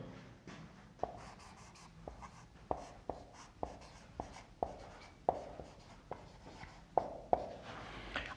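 A pen writes on paper while a physics numerical is being solved, with quick repeated scratching strokes and sharp taps in an irregular rhythm, close and fairly faint, with no talk.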